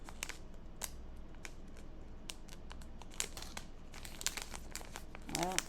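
Packaging around a set of makeup brushes being pulled and worked open, with loud crinkling plastic, rustling and small snaps in irregular bursts close by and a brief rasp near the end, no talking.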